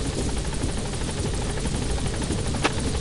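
Helicopter from Metal Gear Solid V: The Phantom Pain flies nearby, its rotor chopping in a fast steady pulse over a dense engine drone, loud and continuous with no speech.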